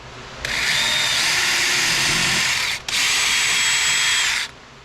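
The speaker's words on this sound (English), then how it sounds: "I'm going to drill a hole and rivet in one of those guys" Power drill boring a hole in a C8 Corvette's frame rail for a 1/8 inch rivet, two loud, steady whining bursts close by, separated by a brief pause, with no talking.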